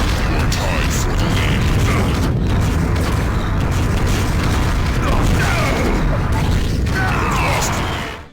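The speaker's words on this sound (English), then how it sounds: "Quake's rocket launchers have always had a special touch to them" Rocket launcher fire in Quake, with repeated booming explosions and bursts over a dense, continuous game soundscape that stays loud for the whole stretch.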